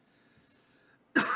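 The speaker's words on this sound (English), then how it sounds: "This is making me cough." A single sharp cough bursts out after near silence, set off by incense smoke in a room, close and abrupt with a short rough tail.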